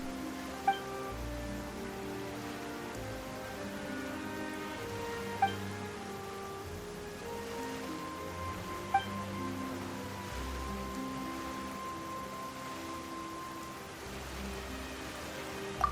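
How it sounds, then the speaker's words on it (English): Rain falls steadily in Genshin Impact, a soft continuous patter on surfaces under gentle background music, with a few faint chime-like accents spaced through it. "Why is it raining all of a sudden?"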